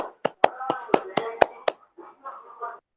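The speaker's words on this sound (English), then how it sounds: "let us unmute and clap for Kranthi" A handful of sharp claps picked up over a video call as participants cheer an intern, about seven distinct smacks in the first two seconds, followed by a brief murmur of voices.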